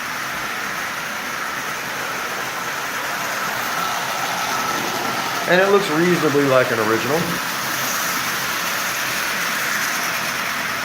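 A tin-litho Marx 999 toy train engine circles its track, making a low, steady mechanical whirr and rattle throughout. Someone speaks briefly partway through.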